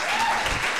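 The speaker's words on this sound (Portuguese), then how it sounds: "Tu há bocado não tinhas ouvido as palmas" A brief, loud burst of applause used as a sound effect in a podcast intro, dense clapping that lasts under a second.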